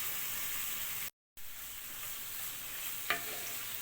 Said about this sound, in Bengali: এটা আমি একটু ভাজা ভাজা করে নিব মশলার সাথে।